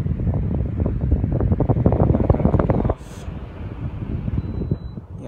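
Mitsubishi pedestal stand fan running in a renovated apartment: a loud, close, steady whooshing rush of blade air that suddenly drops to a quieter, softer hum partway through as the speed changes.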